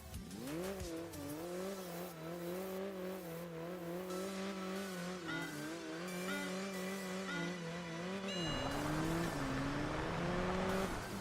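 A 1960s rear-wheel-drive GT car racing in the game Enthusia Professional Racing, its engine revving up through repeated gear changes with tire squeal, heard continuously and fairly quietly with no talk.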